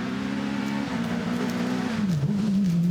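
An MG S2000 race car at the Goodwood Festival of Speed screams at high revs, a loud, sustained, buzzy engine note that holds steady, then dips and climbs again as it carries speed through a long corner.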